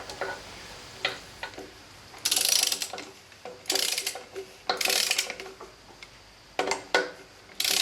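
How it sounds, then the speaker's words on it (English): A ratchet torquing flywheel nuts on a Bobcat 632 engine gives short bursts of rapid close clicking, separated by single ticks and brief pauses. "these flywheel nuts are going to be torqued to 55 pounds"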